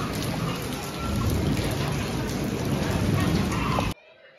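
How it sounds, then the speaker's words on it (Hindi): Heavy rain pours down steadily and loudly during a thunderstorm, with a dense hiss throughout that stops abruptly at the end. "बहुत ही गरज के बारिश हो रहा है गाइस।"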